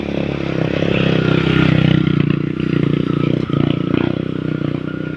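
A motorcycle engine drones steadily up close in a rural mountain area of Camarines Norte among banana groves, with rattling clatter and slight rises in revving throughout.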